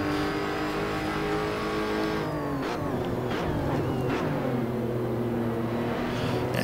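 Lotus Evora race car engine in Assetto Corsa at Laguna Seca, loud and close, holding a high whining pitch, then dropping sharply as it brakes into a corner and climbing again with rising revs, alone without talk.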